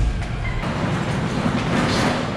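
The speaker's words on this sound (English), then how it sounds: "I'm in the subway station right now." Inside a Korean subway station, a train rumbles with steady broadband noise and a faint clatter, a continuous close roar without speech.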